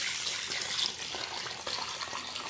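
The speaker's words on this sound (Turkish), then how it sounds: "Şöyle burada da bir sülahi dolu suyumuz var. Ilık suyumuzu ilave ediyoruz." Warm water pours from a jug into flour for Diyarbakır bread dough, a close, steady splashing stream that runs the whole time with no voice over it.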